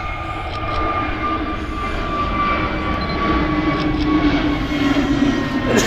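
An airliner takes off from runway 23 at Manchester with a loud, sustained engine roar and a steady high whine. The sound swells gradually across the few seconds.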